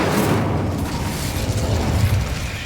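Incendio fire spell cast in the Hogwarts Legacy video game, a dense roaring burst of flame and rumble sustained throughout, loud and close.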